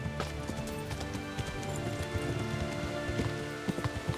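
Horse hooves clip-clopping in the medieval video game Kingdom Come Deliverance, a busy stream of hoofbeats over a rain-like patter at moderate loudness, without speech.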